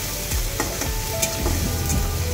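Masala being fried and stirred in oil in a pan, steady sizzling with scraping spoon strokes every half second or so, close and moderately loud, no voices.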